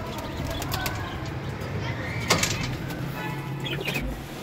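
Pigeons coo softly in an enclosure at feeding time, with budgies nearby, faint murmuring calls under a person talking and some handling noise.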